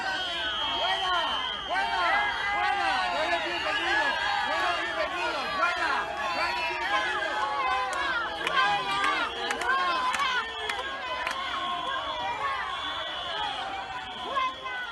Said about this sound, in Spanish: Pitos, abucheos y gritos de fuera